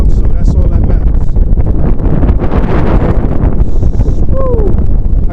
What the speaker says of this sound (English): you're gonna have to excuse this wind